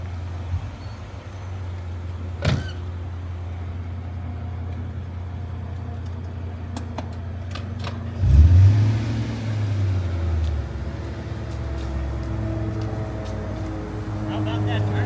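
BMW E39 M5 pulling away from a stop, the engine idling low before rising into a brief surge of acceleration that fades into the distance, with people talking nearby.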